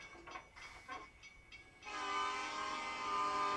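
A train from the film Back to the Future III approaches in a movie scene, its horn sounding as a sustained loud blare after a few softer moments of rumble, growing steadily nearer.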